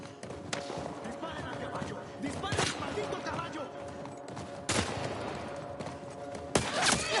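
Video game gunfire aimed at a horse: bursts of shots crack out over a continuous wash of noise, with shouting voices over the action.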